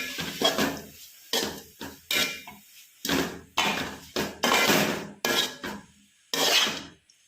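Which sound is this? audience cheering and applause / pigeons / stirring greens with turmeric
stirring greens with turmeric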